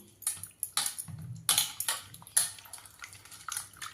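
Mushrooms being washed by hand in water to rinse soil from the stems, with repeated close splashing and sloshing in a bowl alongside light clinks of vessels, irregular bursts with no talking.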